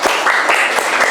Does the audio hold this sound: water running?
no